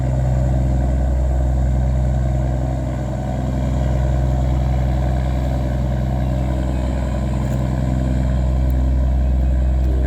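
A tugboat towing a sand barge runs its engine at a steady, heavy low rumble, loud and close throughout without a break.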